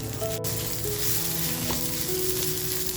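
Loud, dense sizzling of spice masala with black pepper and cloves frying in a hot pan for mutton curry, steady and close, with a brief scrape of stirring.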